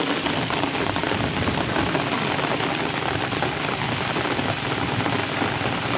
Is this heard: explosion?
no